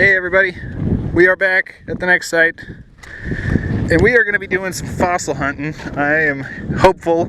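Gusty outdoor wind buffets the microphone at a fossil-hunting site, a low rumbling roar that persists beneath a person talking throughout.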